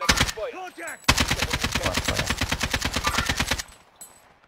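A fast, loud automatic burst of gunfire in Warzone lasts about two and a half seconds of evenly spaced shots, with brief talk just before and faint sounds afterward.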